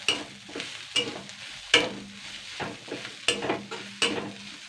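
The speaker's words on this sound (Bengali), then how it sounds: "ঠিক মাছ যেরকম করে ভাজে সেরকম করে আগে ভেজে নিতে হবে" Dried loitta fish frying in a pan gives a close, steady sizzle with repeated crackling bursts and scraping stirs about once a second.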